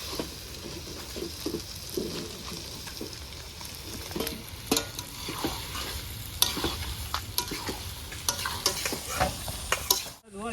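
Potato pieces being stirred and fried in a pan for curry at an outdoor picnic cook-up, a steady close sizzle with frequent scraping and clinking of the spatula against the pan, with no talk.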